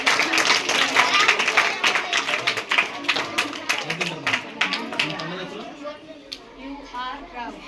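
Schoolchildren and audience at a National Science Day school quiz clap loudly for the quiz winners, steady ragged clapping mixed with crowd chatter that thins out toward the end.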